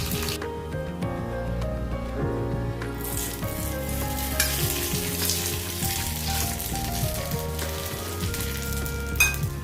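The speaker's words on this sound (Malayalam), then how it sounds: "കടുക് പൊട്ടപ്പോൾ നമുക്ക് അതിലേക്ക് ഒരു വറ്റൽമുളക് ഇട്ട് കൊടുക്കാം" Mustard seeds, a dried red chilli and curry leaves sizzle and crackle in hot oil for an idli chutney tempering, a dense, continuous frying hiss with scattered pops and stirring clatter.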